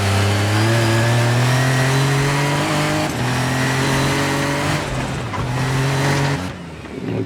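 A rally car engine in the racing game Assetto Corsa Rally roars loudly and continuously, revving up through several gear changes with strong harmonic whine, dropping off abruptly near the end.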